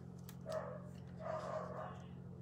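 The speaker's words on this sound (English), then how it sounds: "my dog's going crazy." A dog barks indoors in two short bursts, somewhat distant and muffled beneath a steady low hum, while workers arrive outside.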